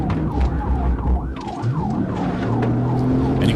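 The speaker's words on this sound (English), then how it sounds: "And you can hear the engine revving in the background." A police car races during a chase with a wailing siren sweeping up and down, and engine revving rumbles loudly underneath a dense mix of road noise.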